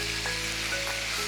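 Chicken sautés on high flame in a brief, continuous loud sizzle with faint scraping of stirring underneath, and no one speaks.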